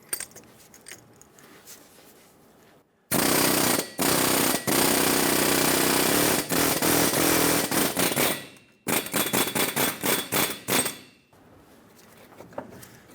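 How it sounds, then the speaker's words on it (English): An air chisel hammers a rusted front wheel bearing loose on a 2003-2009 Dodge Ram 2500, loud rapid pneumatic bursts in two long runs broken by short stops, with metallic clanks and handling noises before and after. "I'm going to use an air chisel and go around the base of this wheel bearing"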